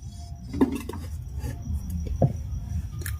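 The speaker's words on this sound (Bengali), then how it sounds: "এই টিফিন বাটির খাপের উপর আমি কেকের বাটিটা বসিয়ে দিচ্ছি।" A cake bowl set down on a tiffin box lid inside a pressure cooker, making a couple of light metallic clinks and scrapes over a quiet kitchen background.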